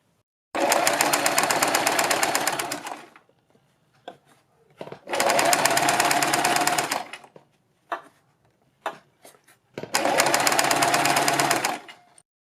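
Sewing machine stitching a folded kurti neckline in three long, loud, steady runs near the mic, separated by pauses with brief handling clicks.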